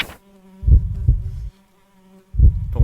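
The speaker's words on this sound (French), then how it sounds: "le bruit des mouches là, il est un peu relou." Flies buzz in bursts within a dark Dungeon Nightmares game dungeon, a close, droning hum that swells, dips and returns in two main waves with a quiet gap between.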